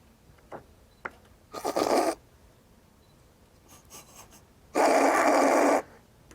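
Dog-like noises made by a person blowing or voicing through small and big tubes, two loud raspy bursts, the first shorter and brighter, the second fuller and deeper, separated by quieter scraping sounds; a voice imitates a dog.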